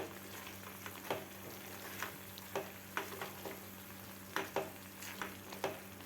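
Homemade apple jam for children being stirred and sautéed in a pan, with a steady soft sizzle broken by intermittent scraping strokes of a spoon, close and fairly quiet with no voices.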